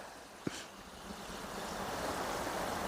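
Water running steadily from a tap into a container outdoors during a hard freeze, a continuous close rushing wash that slowly grows louder, with one brief knock near the start and no talking.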